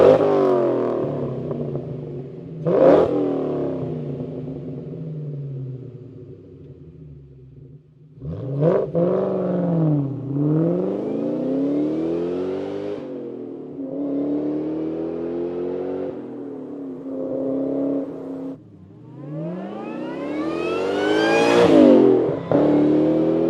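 A supercharged Ford Terminator Cobra with a new intake and Borla Stinger exhaust, heard from outside, revs repeatedly: several sharp climbs and falls of a deep, loud engine roar with supercharger whine, ending in a high-pitched rev.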